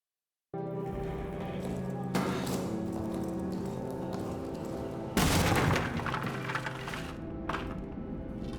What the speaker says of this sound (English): See what I mean about the grenades? They take a good 3 seconds before they actually explode.